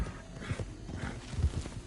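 Horse hooves clip-clop in the Red Dead Online video game, a quick uneven patter of hoofbeats at moderate distance, joined by a soft neigh, with no talk over it.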